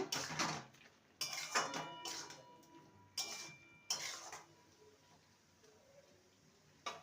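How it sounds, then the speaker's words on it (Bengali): A spoon clatters against a pan while stirring bottle gourd curry after sugar is added, in several separate bursts of scraping and knocking with quiet gaps between. "চিনি দিয়ে ভালো করে নেড়ে নেব"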